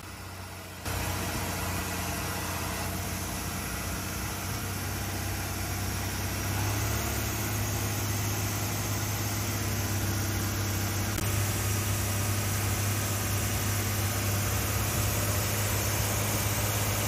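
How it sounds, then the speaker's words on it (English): A motorboat engine gaining speed past a floating village in Phang Nga Bay, Thailand, drones steadily and loudly, a constant low rumble with a wash of broadband noise and no voices. "our boat swiftly gains speed as we pass the floating village"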